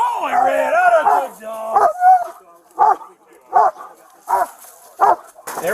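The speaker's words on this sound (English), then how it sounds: "Canine Red tracked down the suspect who had ran behind a house" A police K9 dog barks in a string of loud, sharp barks about once per second after some excited shouting from a handler at the start.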